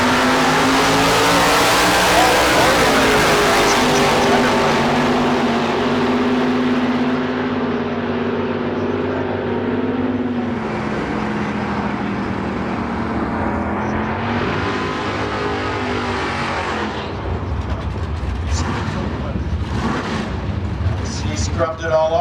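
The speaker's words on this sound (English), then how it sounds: "the 74 Chevrolet Vega wagon with a 383 Summit motor under the hood" A 1974 Chevrolet Vega wagon drag car with a 383 Summit motor makes its run, a loud engine roar that holds, then shifts and fades, with an announcer talking over it.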